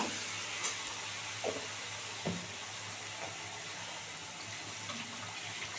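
A small amount of bowl-rinsing water is poured into a pan of cooked-down vegetarian paneer masala, giving a steady, close splashing hiss with a faint sizzle underneath.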